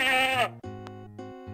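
A sheep bleats in the computer adventure game Freddy Pharkas: Frontier Pharmacist: a short, wavering cry opens the moment, followed by steady in-game music.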